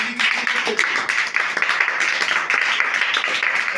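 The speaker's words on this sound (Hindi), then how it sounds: "एक बार जोरदार तालियां" A church congregation applauds loudly during a Hindi Christmas sermon, a dense, steady wash of clapping from many hands that carries on for several seconds.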